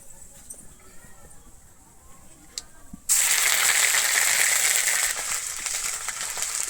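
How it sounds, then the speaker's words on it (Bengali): Ginger paste with asafoetida hits a hot pan for a vegetarian Bengali jackfruit and potato curry, a loud, sudden sizzle that starts after a quiet stretch and keeps hissing steadily to the end. "আমি আদাটা দিয়ে এখানে খুব ভালোভাবে ভেজে নিয়েছি"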